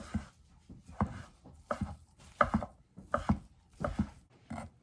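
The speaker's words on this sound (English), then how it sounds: "we're going to rough chop going this way" Knife rough-chopping crab rangoon ingredients on a cutting board, about a dozen sharp close chops falling in quick irregular bursts, with no talking.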